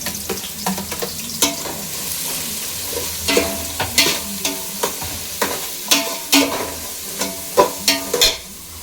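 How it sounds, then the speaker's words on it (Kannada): Onions sizzle in a pan for cabbage egg rice, a constant hot-oil hiss punctuated by repeated sharp spatula scrapes and clacks, loud and close, with no one speaking. "ಈರುಳ್ಳಿ ಹಾಕ್ತಾ ಇದ್ದೀನಿ."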